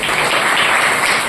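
A congregation at a satsang gathering claps together, a steady, loud wash of many hands with no talk.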